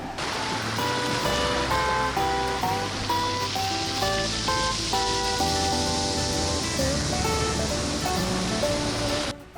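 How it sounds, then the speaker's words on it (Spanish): Rough sea surf breaks on a Hawaii beach as a steady, dense roar of crashing waves and spray, heard under music. "El mar no estaba muy calmado"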